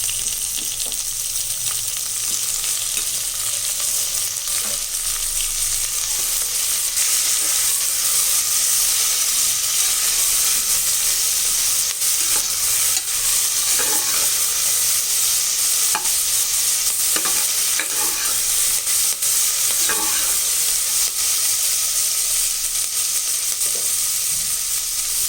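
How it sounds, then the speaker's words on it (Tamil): Onions, tomatoes and curry leaves sautéing in a pot for a one-pot rice dish, a dense, steady sizzle and hiss running throughout with scattered light scrapes and clinks of stirring, close and without talking. "இப்போ இந்த வெங்காயம் தக்காளியெல்லாம் நல்லா வதங்கிடுச்சு."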